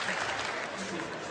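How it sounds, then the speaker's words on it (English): A stand-up comedy audience gives a short burst of applause, a brief wash of clapping heard with a voice over it. "Thanks for that round of applause."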